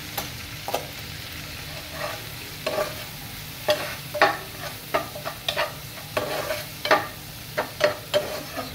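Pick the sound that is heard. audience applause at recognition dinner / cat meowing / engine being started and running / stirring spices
stirring spices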